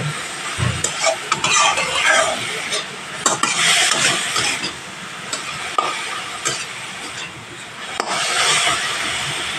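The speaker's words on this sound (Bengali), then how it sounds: "হলুদও হাফ চামচ দিয়ে ভালোভাবে নাড়াচাড়া করে মিশিয়ে নিতে হবে" Vegetarian mixed greens fry with turmeric and salt while a spatula stirs and scrapes the pan, producing a close, busy sizzle with repeated metallic knocks and scrapes in uneven bursts.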